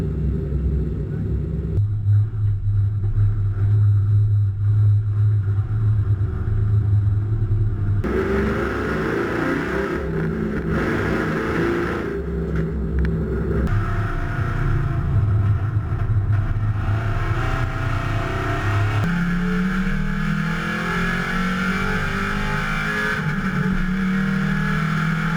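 A Chrysler 300 race car with a 5.7-litre engine revs hard toward 6,500 RPM, a loud, continuous roar that climbs through rising and falling sweeps as gears change over about twenty-five seconds.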